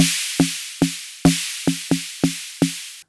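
A distorted snare from a DrumBrute Impact analog drum machine plays around eight loud, punchy hits in a slightly uneven pattern. Each crack carries a gritty, saturated noise tail, and there is no speech.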